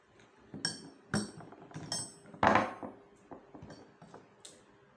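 A metal combination wrench clinks as it is handled in a workshop, giving several sharp, close metallic taps and rattles scattered across the moment, with one louder knock in the middle.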